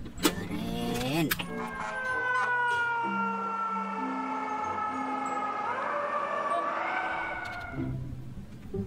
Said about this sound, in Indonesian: Mobil pemadam kebakaran yang kedua teman-teman.